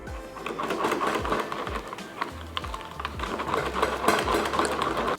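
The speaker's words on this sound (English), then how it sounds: "I'm going to go for a little more apple cider. And we're just going to whisk this around." White barbecue sauce thinned with apple cider is whisked in a bowl, with quick rapid clicking and scraping strokes in an irregular rhythm, close and fairly quiet.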